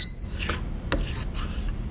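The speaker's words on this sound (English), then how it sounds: "these hold a scraper similar to a block plane, but it's at a much, much steeper angle" A hand scraper held at a steep angle is pulled across a wooden workpiece for a splined mitred box, giving three short, close rasping strokes with brief pauses between them and no talking.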